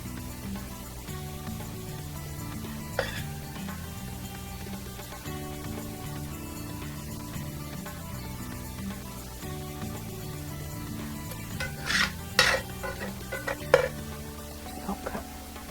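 Ground meat for shepherd's pie frying in a pan, a low steady sizzle with a spoon scraping and stirring, plus a few sharp clinks of utensil on pan toward the end, close and with no talk.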